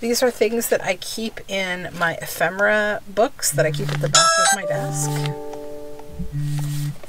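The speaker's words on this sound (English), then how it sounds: "Sorry for that doorbell ring" A person talks, then an electronic doorbell chimes a few sustained tones that ring out and overlap, followed by another short chime.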